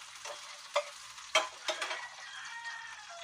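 Onions frying in a pan while being stirred, a steady soft sizzle broken by a few sharp scraping knocks of the utensil against the pan, close and alone.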